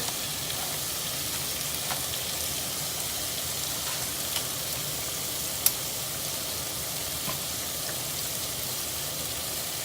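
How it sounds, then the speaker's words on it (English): Beef pieces seasoned with salt and pepper browning in a hot pan for Japanese curry, with a continuous even sizzle throughout, close and moderately loud, broken by a few faint pops and one sharp tick. "Now I just want to let them brown."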